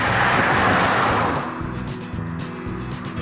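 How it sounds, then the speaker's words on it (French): Car passing close to a pedestrian at about 90 km/h on a road on the way to school in Barnich–Sterpenich: a loud, broad roadway rush swelling at the start, then fading into lower traffic rumble. "Regardez, la voiture va passer à 90 à l'heure près de moi."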